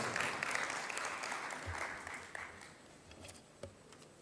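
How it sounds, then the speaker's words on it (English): A round of applause at a joint parliamentary group meeting at KICC in Nairobi, a soft, distant patter of clapping that gradually thins and fades out. "A round of applause."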